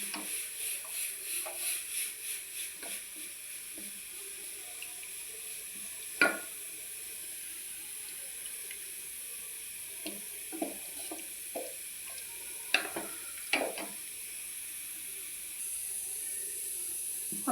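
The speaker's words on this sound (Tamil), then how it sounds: "சேர்த்து இந்த மாதிரி கிண்டிடணும்" Milk stirred into sathu maavu porridge cooking in a pot, a low simmering hiss with scattered spoon scrapes and clinks against the vessel, faint and close, with no voices.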